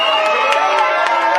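Guests at a civil wedding ceremony at a municipal hall in Kinshasa cheer in a brief burst, a loud, close wash of crowd shouts and whoops with a few sharp claps.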